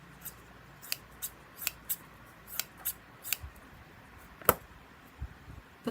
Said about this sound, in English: These are Nakabayashi stainless steel scissors with a coating that is meant to be non-stick.